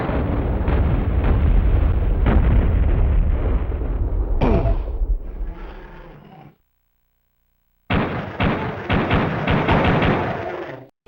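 Gunfire and explosions from the Duke Nukem video game, in the N64 port, come as dense, loud bursts and booms, then a silent gap, then more rapid shooting.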